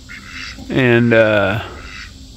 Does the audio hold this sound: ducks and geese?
yes